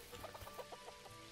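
Chickens in the farming video game Dinkum cluck in a quick series of soft, choppy calls, faint and a little distant over a low steady background, with no talking.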